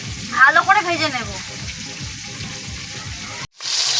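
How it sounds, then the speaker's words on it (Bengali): Pangas fish fries in a wok with a dense, steady sizzle. A faint voice-like tone sounds briefly near the start, and the hiss cuts out for a moment before returning brighter. "আবারও এক খোলা মাছ দিয়ে দিচ্ছি কড়াইতে, ভালো করে ভেজে নেব।"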